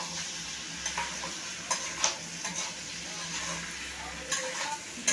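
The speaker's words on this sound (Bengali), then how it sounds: "এই যে নেড়ে দিচ্ছি" Chicken kosha is stirred in a pan, a low steady sizzle with intermittent spatula scrapes and light metallic taps against the pan, close by.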